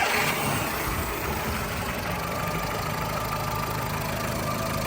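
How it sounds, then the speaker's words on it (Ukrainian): A 2006 Skoda Fabia with a 1.4 petrol engine idles steadily close by, a smooth, even low hum with a light mechanical patter running unbroken and no speech. "Отак автомобільчик працює."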